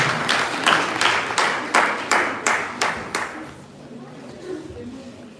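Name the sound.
audience applause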